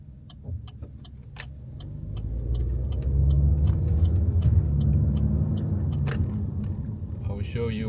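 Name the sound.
car passing by on the road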